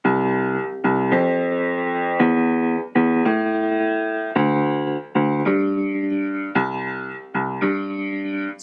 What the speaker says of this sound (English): So a sample bass line would sound like this.